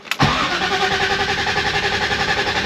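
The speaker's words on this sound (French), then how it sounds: "on va voir comment il démarre ce matin" A biturbo 750 car engine cranks for a split second, catches with a sharp burst, then settles straight into a close, steady idle with an even pulsing throb.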